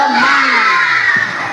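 A group of elementary schoolchildren at an environmentally friendly school shout a cheer chant together in unison, loud and close, in one brief sustained burst.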